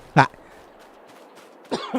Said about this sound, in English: Sorry as I cough in your ear holes.